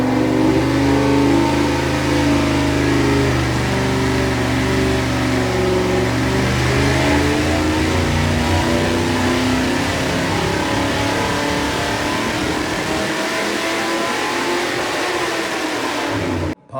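A 350 small-block Chevy V8 runs on a dyno, revving loud and steady with a harsh, sustained roar close up, then dropping in pitch near the end before cutting off abruptly.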